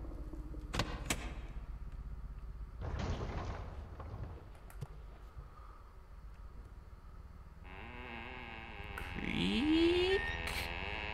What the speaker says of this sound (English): Creak?